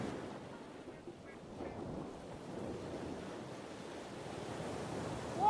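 Rough sea water churns around a boat crossing to Fortune Island in Batangas, a steady close wash of waves mixed with wind buffeting the microphone, with no clear voices.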